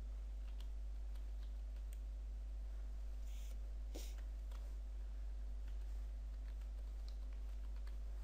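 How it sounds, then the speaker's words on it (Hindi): Someone types a Gmail address on a computer keyboard, producing faint, scattered key clicks over a constant low electrical hum, with a couple of louder taps near the middle. "टाइप कर देनी है।"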